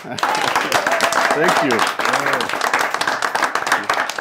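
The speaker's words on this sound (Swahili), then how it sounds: "Wapi makofi yake?" A TV studio audience applauds with a dense wash of clapping that fills the whole stretch, while someone speaks over it.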